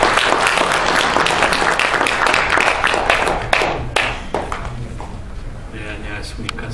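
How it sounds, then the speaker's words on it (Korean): A crowd claps to welcome a pastor giving a congratulatory speech at a launch ceremony, dense applause that gradually thins into scattered claps, with a voice speaking over it. "박수로 환영해 주시길 바랍니다."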